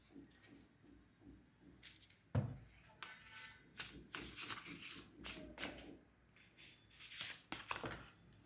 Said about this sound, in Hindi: और मैं कार्ड्स पुल आउट कर लेती हूँ पहले